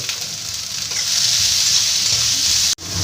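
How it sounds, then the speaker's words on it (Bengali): Vegetables fry in a pan with a little salt, giving a loud, steady sizzle close by, briefly interrupted by a sharp clatter near the end, with no voices. "সব সবজিগুলো আমি দিয়ে দিচ্ছি হালকা করে একদম ভেজে নেব সামান্য একটু নুন দিয়ে ভেজে নেব"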